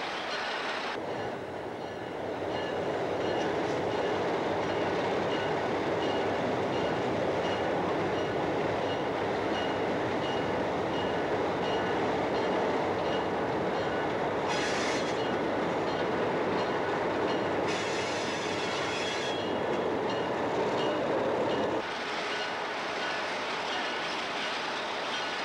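An old train with a steam engine runs along the line between Bridgewater and Blockhouse, a steady loud rumble of wheels and carriages rolling past close by, broadband and continuous with slight surges, no voices.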